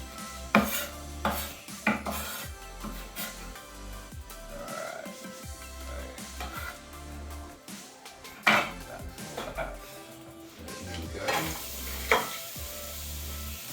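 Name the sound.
food sizzling in a pan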